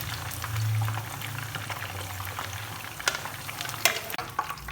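Fish pieces frying in hot oil in a pan for a fish curry, with a steady crackling sizzle and occasional sharper pops and stirring clinks close by.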